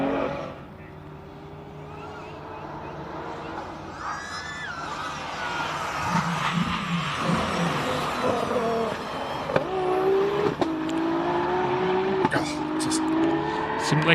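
A turbocharged race car at the Simola hillclimb King of the Hill shootout snarls and revs hard, with rising and falling engine pitch and brief tyre noise, heard under steady commentary.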